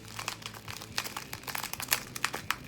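Quiet, irregular crackling and crinkling as stiff book pages stuck together by a spill peel apart, small sharp pops scattered over a few seconds.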